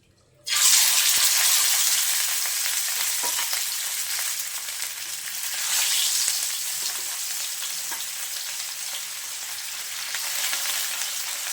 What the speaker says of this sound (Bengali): তাওয়ায় এখন সর্ষের তেল দিয়ে দিচ্ছি এটা খুব ভালোভাবে গরম হয়ে গেছে এখন মাছগুলো দিয়ে দিচ্ছি